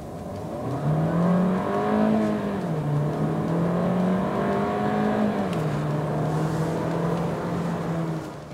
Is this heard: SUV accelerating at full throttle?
yes